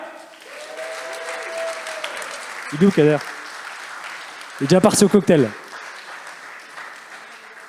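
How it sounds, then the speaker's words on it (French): Applause at a pitch and networking event in the Palais Brongniart, Paris, a steady wash of clapping throughout with people talking over it close by. "s'il vous plaît, des tonnerres d'applaudissements pour Kader de Metacard."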